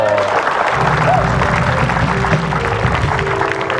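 A talk show studio audience fills the room with continuous loud applause and some crowd noise, and a brief tone and faint voices come through underneath.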